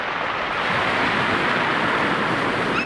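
Sea waves washing in on Berrow Beach, a steady broadband surf wash with wind buffeting the microphone, continuous and fairly loud throughout with no voices.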